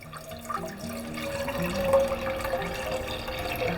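Milk, 1.25 litres of it, pours into a pot for Nepali kheer, a continuous splashing gurgle that thickens and rises in pitch as the pot fills, heard alone without talk.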